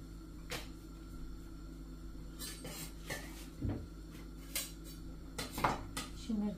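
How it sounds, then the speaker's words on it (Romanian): A cooking pot set down while preparing spaghetti with beef and pork: nearby clanks and metallic clinks of cookware, a few separate knocks spread across several seconds in a quiet kitchen. "Acum punem aici noala asta."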